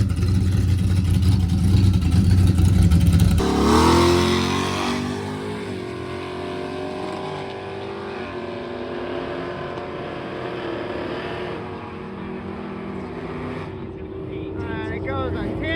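A 1969 Plymouth Road Runner, a classic Mopar, launches down a drag strip with a loud engine roar that rises and then holds a steady drone, while a voice talks over part of the run.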